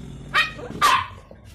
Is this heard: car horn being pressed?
no